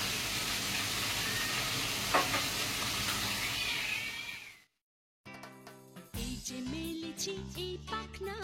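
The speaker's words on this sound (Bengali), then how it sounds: "এখন আলুটা ভাজা হোক" Potatoes fry in a hot pan with a dense, steady sizzle for several seconds, then it cuts off and gives way to music.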